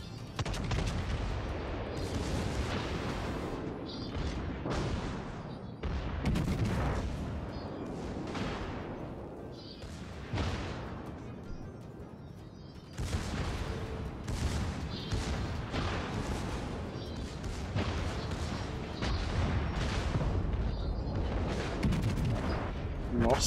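Naval gunfire from World of Warships plays through the whole stretch, with repeated heavy booming salvos and rumbling blasts that come in dense waves, loud and sustained, with a brief lull partway through.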